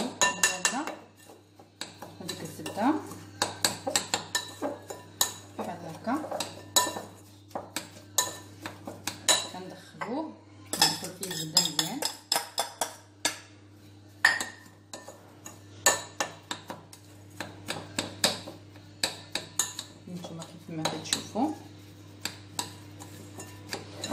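A spoon scrapes and clinks against a bowl while biscuit crumbs are stirred with a mixture for an easy cheesecake, giving a quick, irregular run of close, light tapping and scraping strokes over a low steady hum.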